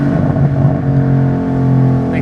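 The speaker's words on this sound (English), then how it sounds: "Even though this one has aftermarket mufflers, it has an awesome exhaust note to it." A 2013 Ford Boss 302 V8 with a six-speed and aftermarket mufflers rumbles steadily from inside the car, a deep, sustained exhaust note with harmonic layers holding at a constant pitch for a couple of seconds.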